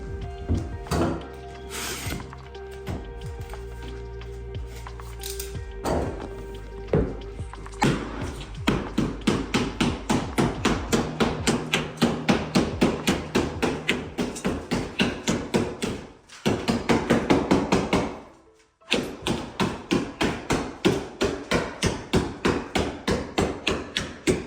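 A hammer strikes drywall in a primary bathroom being renovated, dozens of close, sharp blows that come in a quick steady rhythm with brief pauses between runs.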